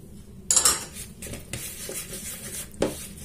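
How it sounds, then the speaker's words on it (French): A spoon stirs a marinade of lemon juice, vinegar and oil in a dish, with a sharp clink against the side, then soft scraping and swishing and a final light tap. "Je mélange bien tout ça."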